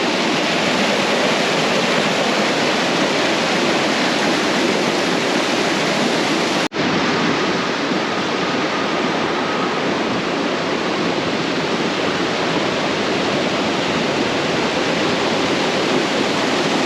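Water from full Rhodes Pond pours over the dam in a steady, loud, broadband rush, unbroken except for a brief dropout partway through.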